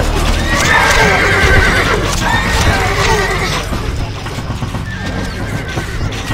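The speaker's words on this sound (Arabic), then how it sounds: "الفرس تعدو" Horse neighing and galloping hooves from the Stronghold Crusader strategy game, loud and continuous, with whinnies rising over steady clip-clop and battle noise before easing slightly toward the end.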